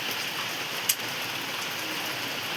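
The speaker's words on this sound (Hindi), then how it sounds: "देखो गाइस कितनी तेज़ बारिश हो रही है।" Heavy rain falls outside in a steady, dense hiss of drops on surfaces, loud and continuous, with one brief sharper splash or knock about a second in and no voices.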